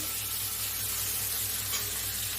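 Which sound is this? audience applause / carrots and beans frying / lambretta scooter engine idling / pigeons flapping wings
carrots and beans frying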